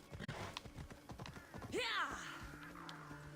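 Horse hooves clip-clop in Assassin's Creed Odyssey, a quick run of steady near hoofbeats mixed with a game whinny and background music while someone talks over them.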